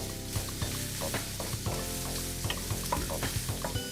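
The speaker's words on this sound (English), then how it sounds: "Let's saute those all together until the onions take on a golden color." Onions and curry leaves sauté together in a pan with a steady, close crackling sizzle, while frequent light stirring scrapes and taps run through it at a busy, uneven pace; no one speaks.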